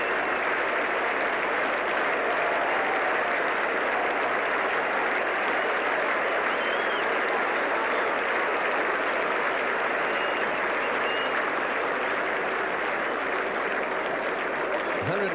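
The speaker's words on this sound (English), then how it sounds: "The Australians applauding, and the ground is rising to Kalachurran" At the 1975 World Cup final, a cricket ground crowd and the Australian fielders applaud a departing batsman, a steady, fairly distant wash of clapping with faint commentary underneath.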